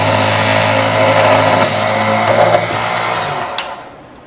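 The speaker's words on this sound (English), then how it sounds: "turn it on, and slowly drill through the hole" A power drill whirs steadily as it bores through a wooden dowel for jewelry rivets, a loud close motor drone that slowly fades near the end, followed by a sharp brief click.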